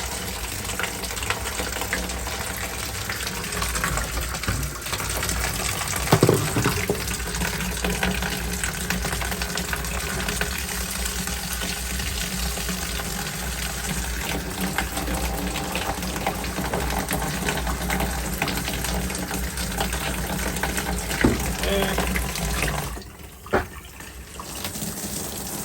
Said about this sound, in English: you definitely want to run this until it's clear in the bathtub